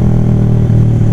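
A motorcycle that keeps having trouble runs loud and close in a steady, throbbing idle, its low engine drone unbroken through the short stretch with no talk.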